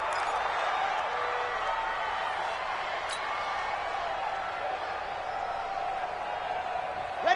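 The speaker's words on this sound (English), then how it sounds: "Listen to this crowd now." A steady roar of a large stadium crowd in an American football video game fills the scene during a final-seconds two-point conversion, a constant wash of cheering noise without clear breaks.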